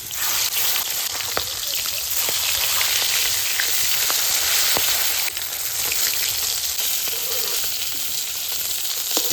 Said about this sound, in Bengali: মাছগুলিকে আমি লাল লাল করে ভেজে নিয়েছি